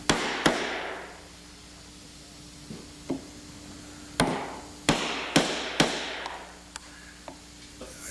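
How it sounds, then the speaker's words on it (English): A chisel is hammered into wood at a woodworker's bench: about ten sharp, separated strikes at irregular intervals, some loud and ringing, others lighter taps, with a faint steady hum between them. "when the back of the chisel has more to rest again, you can really hammer it down"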